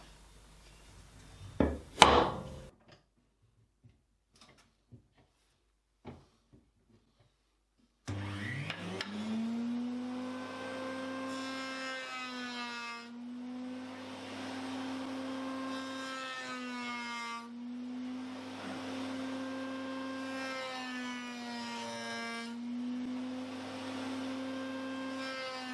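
A router with a big 45-degree chamfer cutter bevels the wooden top of a ring box. Near a few clicks and knocks, the tool then starts up into a steady loud whine with slight dips in pitch as it cuts.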